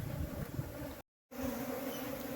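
Honey bees swarm and buzz just outside a hive during a cut-out from an old tree stump, a dense steady drone with a brief silent gap in the middle.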